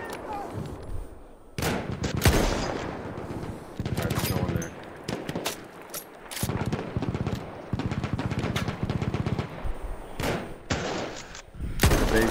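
Machine guns fire in Battlefield 1 in repeated rapid bursts, some close and loud, others farther off, with scattered gunshots between them in a continuous firefight.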